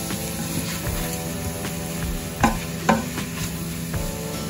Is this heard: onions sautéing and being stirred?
yes